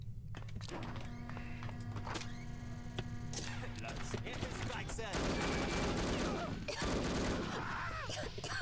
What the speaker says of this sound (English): we'll have to use the Kalashnikov.